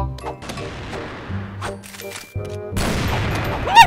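Gunfire in the game CrossFire, a handful of sharp single shots with ringing tails, mixed with game effects and a brief voice toward the end.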